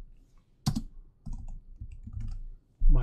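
Keystrokes on a computer keyboard as a command is typed at a terminal: a sharp click burst, then a run of softer, uneven taps close by, ending on one louder key press, with no speech.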